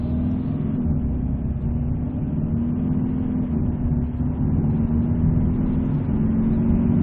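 A 2020 Kia Carnival accelerates up a slight incline after a U-turn, its engine giving a loud, steady, close drone with a low rumble that holds throughout without a break.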